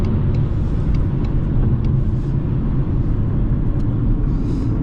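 Corvette passing by with a steady, loud low engine rumble that stays constant throughout, with no talking over it.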